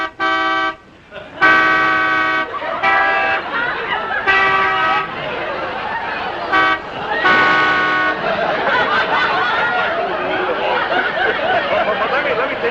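A voice imitates Canada geese honking, repeated nasal honks in short bursts with gaps, mixed with laughter and chuckling close by.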